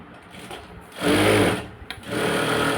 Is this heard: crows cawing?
no